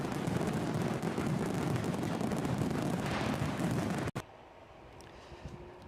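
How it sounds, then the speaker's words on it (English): A fireworks sound effect plays as a new member alert, a dense, loud crackling and booming rumble lasting about four seconds before cutting off abruptly into quiet background noise. "Let's do the fireworks first."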